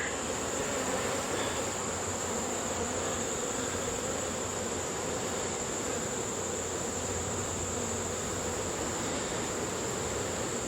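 A large swarm of honeybees hiding under a screened bottom board gives off a loud, dense, unbroken buzz that holds evenly from start to finish, with no talk.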